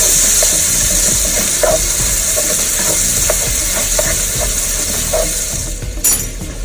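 About 1.5 pounds of meat browning in a pan for three-meat spaghetti sauce, a loud, constant close sizzle with small stirring clinks and a louder scrape near the end.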